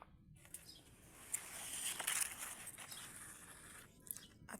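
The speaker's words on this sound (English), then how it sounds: "Hear the sounds of the birds." Birds chirp and tweet in a food forest garden of tomatoes, pumpkins and cover crops, faint scattered calls over a steady outdoor background with some rustling.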